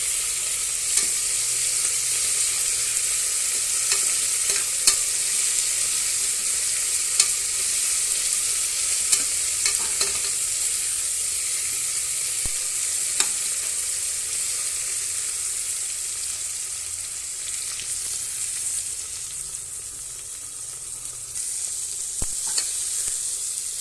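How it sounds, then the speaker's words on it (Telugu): Finely chopped ripe tomato fries and is stirred in a pan, giving a continuous close sizzle with occasional faint scrapes and clicks of the stirring utensil, and no voices. "టమోటాని బాగా ఫ్రై చేసి కొంచెం సాఫ్ట్గా అవుతుందండి."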